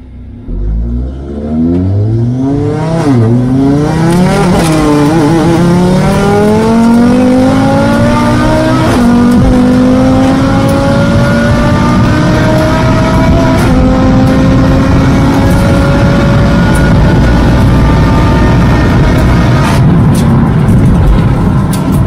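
An Audi RS3 fitted with a carbon air intake accelerates hard, its engine note climbing loudly through repeated upshifts with rising, dropping pitch sweeps, close and dominant throughout.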